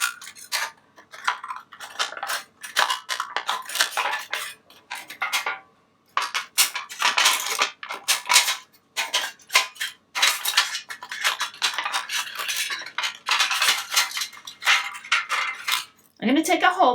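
Scissors or snips cut a thin piece of craft metal into a pumpkin leaf shape, producing a steady run of close, crisp metallic snips and crinkles with short pauses between cuts.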